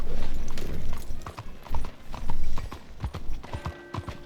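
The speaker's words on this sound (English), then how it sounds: "Vámonos en el caballo." Horse hooves clip-clop at a steady riding pace in an Old West video game, with a few faint background game sounds over the rhythmic thuds.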